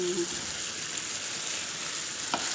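A creamy chicken dish sizzles steadily in a pan while being stirred until mixed, a continuous bright frying hiss with a soft spoon scrape near the end.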